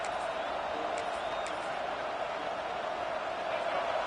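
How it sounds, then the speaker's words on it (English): A stadium crowd at an LSU football game roars in a steady, dense wash of cheering that holds at full volume throughout, with scattered whoops rising above it. "This crowd, full throat, spreading the eardrums"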